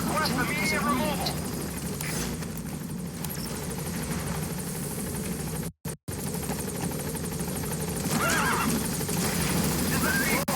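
In Metal Gear Solid V: The Phantom Pain, a support helicopter arrives at a landing zone with a loud, continuous rotor roar. Voices talk over it, and the sound cuts out for a moment midway.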